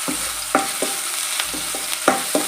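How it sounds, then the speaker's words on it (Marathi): Cumin, chopped green chili and ginger-garlic paste sautéing in a pan for aloo chole tikki chaat, with a steady sizzle under repeated scraping strokes of a stirring spoon, close and moderately loud, no talking. "आपल्याला हे छान असं जरा आलं लसूण पेस्ट परतवून घ्यायचे"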